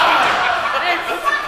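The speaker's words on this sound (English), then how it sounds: "Slamming that arm right off the mat." At a 2013 pro wrestling event, a wrestler's arm is slammed onto the mat with a single dull slam, heard beneath steady crowd noise and a commentator talking.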